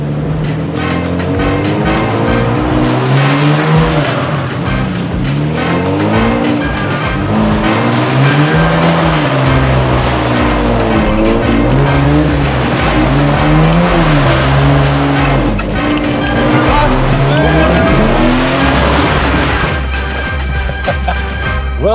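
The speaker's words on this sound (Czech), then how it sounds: "Jezdí si dokola a zkus to rozhodit do driftu dokola" A car drifts round and round in circles, its engine revving and falling in a wavering cycle while tires squeal loudly and continuously, close by.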